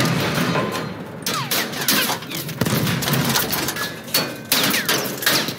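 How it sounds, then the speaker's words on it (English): An enemy machine gun fires in the video game Battlefield 1, dense rattling bursts broken by short gaps and mixed with loud battlefield noise, close and sustained. "It's an enemy machine gun."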